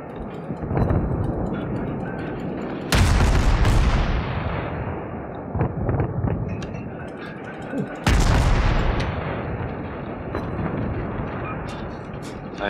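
Naval artillery gunfire in the World of Warships video game: two heavy, booming salvos, each a sudden loud blast that rumbles and fades over several seconds, with smaller shots and clicks between.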